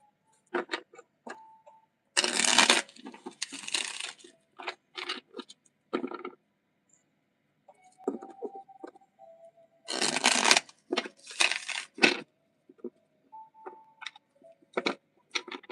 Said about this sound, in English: Shit's so hard to fucking shuffle.